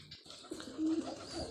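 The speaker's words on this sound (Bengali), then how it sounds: "আপনারা দেখতে পাচ্ছেন কতটা অ্যাক্টিভ কবুতরগুলো।" Pigeons coo briefly nearby, a short low throaty call after some rustling.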